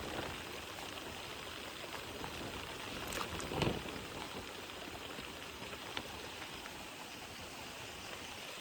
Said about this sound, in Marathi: सतत पाऊस पडतोय